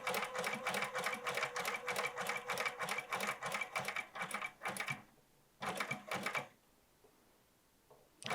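A sewing machine stitches a jeans hem in rapid bursts of close, rhythmic mechanical clatter, pausing briefly, running one short final burst, then falling quiet.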